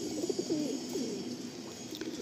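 A Chatiyal Jiriya pigeon, a female, gives soft throaty coos at close range over a steady background hiss, the calls rising and falling in a short run.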